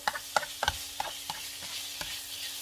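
Pork is stir-fried in a pan for cauliflower fried rice, with sharp, irregular clacks of a spatula against the pan over a soft, low sizzle, close and clear with no talking.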